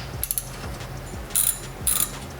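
A socket ratchet works on engine and transmission mount bolts of a Chevrolet Astro Van, giving short bursts of quick mechanical clicking, close and fairly quiet, with brief pauses between strokes.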